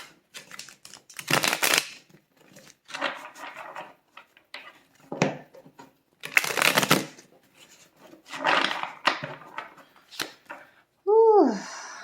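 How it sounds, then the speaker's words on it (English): Tarot cards being shuffled in repeated short riffling bursts with pauses between them, fairly close and moderately loud, ending with a brief chirping tone. "Let me do a little shuffling of the cards."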